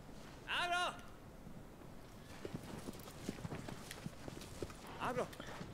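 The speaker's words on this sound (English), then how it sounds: "why are you struggling to get up on the horse?" In the video game Shadow of the Colossus, a horse's hooves clop in a quick, uneven run of steps in the middle. A voice calls out loudly before and after the hoofbeats.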